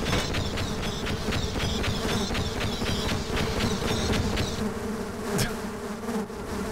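Bees in the video game Half-Life Sven Co-op buzz loudly and continuously, with rhythmic pulsing clicks through most of the clip and a sharp tick near the end.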